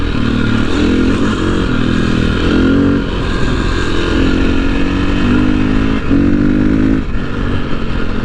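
A 2001 KTM 400 dirt bike engine runs loud and close, its revs rising and falling in repeated surges over a steady rumbling idle.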